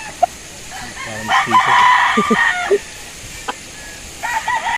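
A rooster crows loudly and close by, one drawn-out call in the middle followed by a shorter call near the end, with a few sharp clicks and faint background murmur between.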